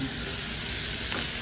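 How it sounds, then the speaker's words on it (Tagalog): Kangkong (water spinach) hits a hot pan already holding sautéing garlic and onion, giving a steady, close sizzle throughout with one faint clatter near the end. "Tapos yung isalang na natin ang kangkong ng kangkong."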